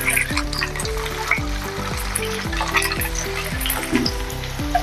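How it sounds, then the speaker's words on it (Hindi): Pieces of semolina snack sizzle and fry in hot oil in a pan, a steady crackling bubble with repeated soft clinks of a utensil stirring, close and alone without talk. "अभी हमने पैन में तेल डाला है, अभी हम तलेंगे।"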